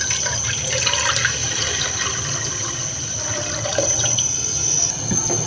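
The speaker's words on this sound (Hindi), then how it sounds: "ऐड करेंगे 1 लीटर पानी।" About one litre of water pours steadily into a metal cooking pot on a stove, a continuous splashing rush with a faint hum beneath it and no talking.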